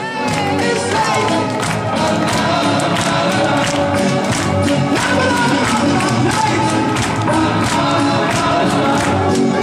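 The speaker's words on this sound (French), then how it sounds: "Bravo Rosette, on l'applaudit très fort" A neighbourhood party crowd applauds and cheers for Rosette after she dances, dense continuous clapping mixed with shouts and whoops, loud and close, with voices talking through it.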